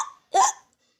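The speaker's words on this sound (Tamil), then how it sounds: "மீண்டும் விக்கல் வரவே பாடலை நிறுத்திவிட்டது" A myna bird in an animated children's story about a singing contest in the forest gives a single sharp, close hiccup after a brief faint sound, then silence.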